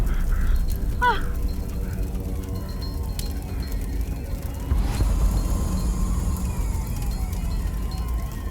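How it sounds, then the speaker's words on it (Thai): A fire truck siren wails in the distance, approaching, faint and wavering over a steady rumble of traffic and outdoor noise, with a sharp crack partway through. "รถดับเพลิงมาแล้ว"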